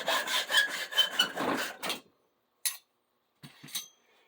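Hand saw pulled back and forth through wood to deepen a groove, about two seconds of close rasping strokes, then a few short isolated scrapes after a pause.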